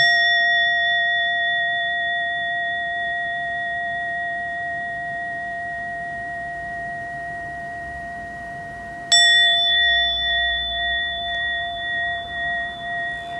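A bell rings with a long, pure sustained tone that slowly fades, then is struck once more and swells in a wavering hum, alone in a quiet room.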